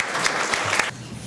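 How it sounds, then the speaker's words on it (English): A brief round of applause for summer program site coordinators, with scattered claps from a modest crowd that thin out and stop after under a second. "So please give them a round of applause."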